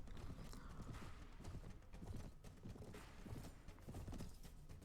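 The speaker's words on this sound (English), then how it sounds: "And we do have a horse now." Horse hooves in Mount and Blade: Warband Viking Conquest, a steady clip-clop that goes on throughout, quiet and close, with faint creaking of gear and no talking.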